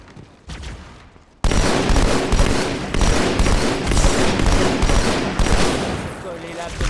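Rapid gunfire from the Halo 2 video game erupts after a quieter opening, with dense, sustained automatic bursts filling the rest of the stretch at loud, close range.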